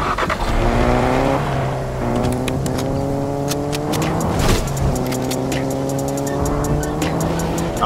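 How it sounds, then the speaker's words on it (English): A Fortnite car engine hums and revs steadily, with rising and falling gear-like pitch sweeps as the vehicle accelerates, loud and close, with scattered clicks and faint game sounds. "Come on, we got our car right here."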